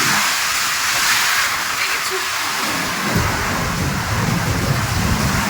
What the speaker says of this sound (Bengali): আজকে কিরকম ঝড় বৃষ্টি হচ্ছে, দেখো